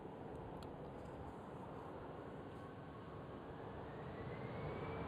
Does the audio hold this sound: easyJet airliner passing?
yes